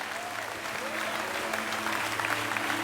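A church congregation applauds during a sermon, a dense continuous wash of clapping with a faint voice and low hum underneath, fairly distant.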